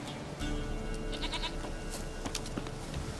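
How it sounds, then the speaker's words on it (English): A goat bleats in The Witcher 3 game world, a few short wavering calls at moderate distance over steady ambient game background noise. "Goat."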